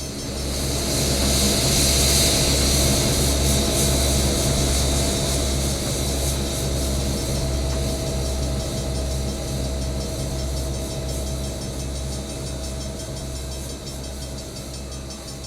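A&WP 290 steam locomotive hauling a train on a trip along Norfolk Southern trackage, a steady loud rumble with low mechanical drone and hiss, fairly close and continuous, gradually easing slightly in loudness, no voices.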